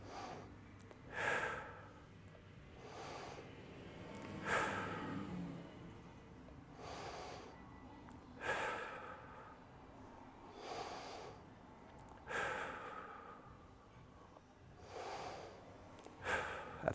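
Slow, deep breaths during a stretch hold in a low back and core exercise flow, about seven soft rhythmic inhales and exhales, close and quiet with no talking.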